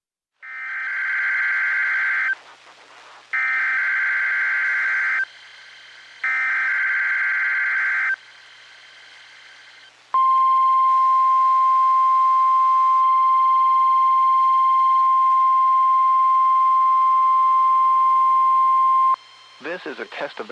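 An Emergency Alert System test sounds as three loud, harsh two-tone bursts with short gaps, then a long steady single tone of about nine seconds, clear and alone before a brief voice begins at the end.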